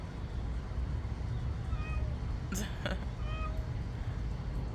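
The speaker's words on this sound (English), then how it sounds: "Look at my cat, he's meowing at me." A couple of soft, short cat meows from a short distance, heard over a steady background hum.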